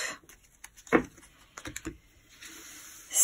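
Tarot cards being cut by hand, giving a few soft, close papery taps and slaps with a brief sharper card snap near the middle, quiet and without speech.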